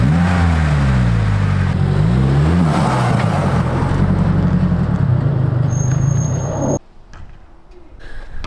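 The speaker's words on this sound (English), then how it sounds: "I notice when you blip the throttle too," A 2022 Subaru WRX engine fitted with a Perrin intake revs loudly up close, with wavering throttle blips and turbo induction noise before cutting off abruptly near the end.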